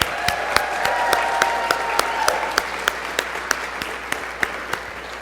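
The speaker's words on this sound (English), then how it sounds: "So if we could just give a round of applause." An audience at an annual general meeting claps steadily for a few seconds, with a dense wash of hands and one sharp, regular clap standing out close by, while a brief cheer or whistle rises early on.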